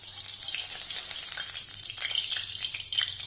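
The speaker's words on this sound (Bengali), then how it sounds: "তো মাছগুলো ভালোভাবে আগে ভেজে নেব।" Katla fish sizzling and frying in hot oil in a wok, a steady close crackle with small bursts of spattering throughout.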